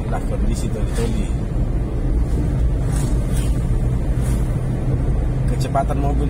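A car travels along a road in Tolitoli at about 60 km/h, a steady low engine and road-noise drone heard from inside, with someone talking continuously over it.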